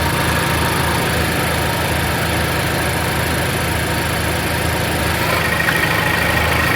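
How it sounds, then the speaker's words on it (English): A car engine idling with a rattling fault, giving a constant, dense, loud running drone close by with a steady low hum and no variation in revs. "This engine makes a rattling noise that is unsettling."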